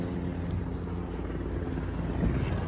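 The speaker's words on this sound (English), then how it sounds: "Military helicopter." A military helicopter drones steadily overhead with a low, throbbing rotor hum, moderately distant, with wind buffeting the microphone.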